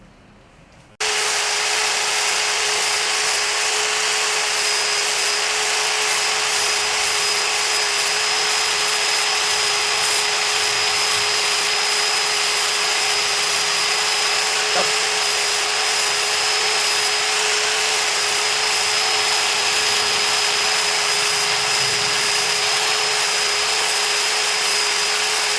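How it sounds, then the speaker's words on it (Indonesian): Sanding grinder removing scale from a rear brake part, a close, loud, steady whining drone that runs continuously after a brief quiet start. "Kita pakainya gerinda amplas."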